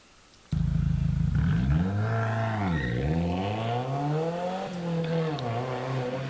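A car starts abruptly and drives off, its engine whining and revving up and down in smooth sweeping pitch changes, fairly loud and close, with a brief clatter near the start.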